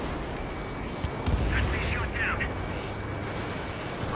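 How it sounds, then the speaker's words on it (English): Missiles firing and exploding during a jet dogfight in the video game Ace Combat 7, with dull booming bursts and whooshes over a rumbling engine drone, partly under a voice talking. "Stop shooting missiles at me."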